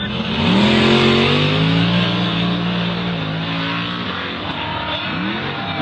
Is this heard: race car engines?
yes